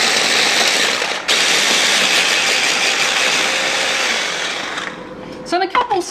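A kitchen blender whirs loudly and steadily for about five seconds while chopping meatball ingredients with roast garlic, briefly dipping once, then cuts off, leaving a few clattering knocks and handling sounds.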